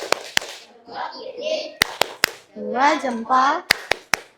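A class of primary school students performs a rhythmic Indonesian clapping chant, with crisp, loud hand claps in quick clusters at the start and end and children's chanting voices between them.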